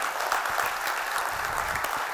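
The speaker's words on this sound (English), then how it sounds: "Let's give them a big round of applause." A dense, steady wash of audience applause fills a youth entrepreneurship conclave session, loud and continuous with no gaps.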